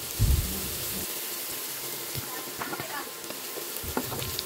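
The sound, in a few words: pork frying in its own fat, with minced garlic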